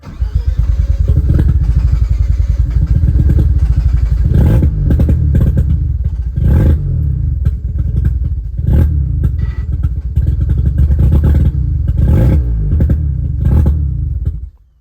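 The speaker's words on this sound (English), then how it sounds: "with everything in check, it should just start up without like having to use the starter" Rebuilt rotary engine of an FC Mazda RX-7 with a street-ported 4-port T2 block running right after the rebuild: loud, close, steady lumpy idle with rough pulsing and a few throttle blips, no talk.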